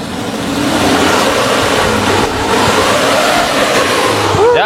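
2003 Suzuki Carry Futura minibus engine revving loudly and close by, a rough sustained roar with some rising gas bursts, voices faintly mixed in.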